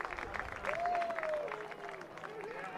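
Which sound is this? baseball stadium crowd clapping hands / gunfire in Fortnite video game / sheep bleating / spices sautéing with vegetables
baseball stadium crowd clapping hands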